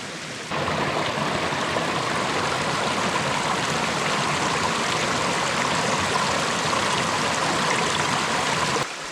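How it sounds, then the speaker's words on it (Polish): A small forest waterfall in Warmia pours over the stones of an old mill, making a steady, full rushing and splashing that holds evenly throughout, near and without voices. "Jest to warmiński wodospad, który został ukształtowany przez naturę"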